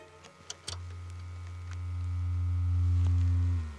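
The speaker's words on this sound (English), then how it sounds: "a generator to make a sine wave, some noise, and that's fed to an amplifier" A loudspeaker driven through an amplifier by a signal generator sounds out after a few clicks, a steady low sine-like hum swelling in loudness and then holding with a faint hiss of noise, with no voices.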